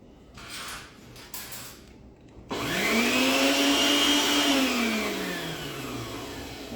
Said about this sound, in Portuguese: Primeiro eu vou ligar a batedeira que eu esqueci.